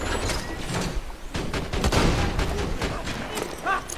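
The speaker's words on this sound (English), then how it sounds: "Deploying sentry!" Sentry turret deploying in Borderlands 2, mechanical clanking and whirring amid rapid gunfire and a loud busy firefight, with a voice calling out over it.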